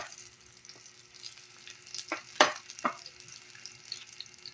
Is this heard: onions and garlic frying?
yes